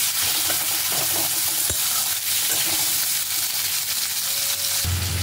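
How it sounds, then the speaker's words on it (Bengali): Chopped onion frying in hot oil for a shrimp and potol bharta, giving a steady close sizzle throughout with occasional stirring scrapes and a brief knock, no talking. "পেঁয়াজটাকেও ভালোভাবে একটু ভেজে নিতে হবে।"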